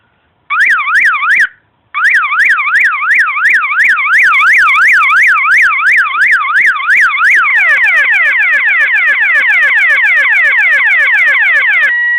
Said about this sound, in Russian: То есть сигнализация с машины обычная.